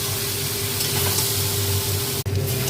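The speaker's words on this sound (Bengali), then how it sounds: "এরপরে আমি আলু ভিন্ডিটা মশলার সঙ্গে একটু কম আঁচ করে ভালো করে আমি ভেজে নিচ্ছি" Potato and okra (aloo bhindi) frying on low heat in a poppy-seed spice paste: a steady close sizzle with a faint hum underneath, broken by one sharp stir or scrape near the end.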